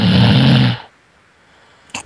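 A man's loud snore on command, a single long rasping inhale lasting under a second, followed by near silence and a brief faint click near the end.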